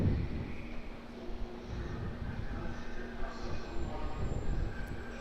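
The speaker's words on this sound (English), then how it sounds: "time for the Qantas Airbus A330-200 coming in from Brisbane" A Qantas Airbus A330-200 arriving from Brisbane at Auckland Airport, heard as a steady, broad jet roar that holds loud and continuous throughout with no voices over it.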